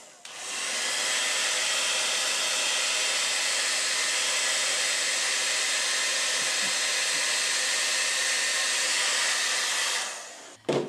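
A hair dryer switches on and blows a steady, loud stream of air with a constant whooshing hiss and motor whine for about ten seconds, then cuts off.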